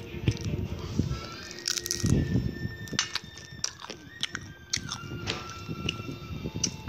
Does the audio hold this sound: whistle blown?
no